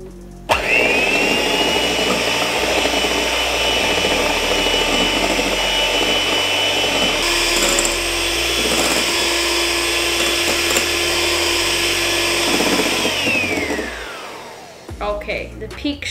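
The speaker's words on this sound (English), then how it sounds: "to mix this up, I'm going to use an electric mixer" Electric hand mixer whirring steadily at high speed through walnut cake batter, a loud continuous motor drone that holds for about twelve seconds before winding down and stopping, with a brief voice afterward.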